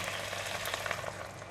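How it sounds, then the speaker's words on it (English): Carrot and white radish stir fry sizzles in a pan, a steady crackling hiss with small popping bursts and faint stirring, close and moderately loud with no talking. "Carrot and white radish is almost cooked, and I'm going to put in the balance of the sauce"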